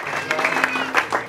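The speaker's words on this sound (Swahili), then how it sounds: "makofi kwa Bwana Yesu kwa ajili ya neno" Church congregation clapping in praise, a dense steady patter of many hands with a few louder bursts, close and moderately loud.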